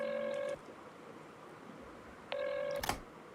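A telephone dials out with two bursts of steady multi-tone DTMF keypad beeps separated by a quiet pause, then a brief click, close and clear with no talking.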